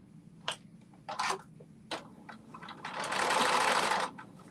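A sewing machine stitches fabric under the presser foot, starting with scattered short clicks and taps, then running in one sustained, fast whirring burst of about a second before stopping.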